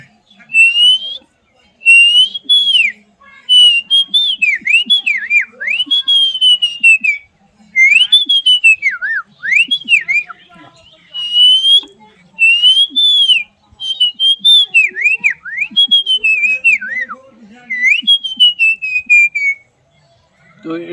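Someone whistles an imitation of an oriental magpie-robin song: clear, loud, sweeping and warbling phrases in repeated bursts separated by short pauses.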